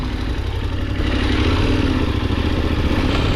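A KTM 1090 Adventure motorcycle riding off-road through mud, its engine loud and close with a steady throbbing roar that swells slightly as it powers on, accompanied by rattling clatter.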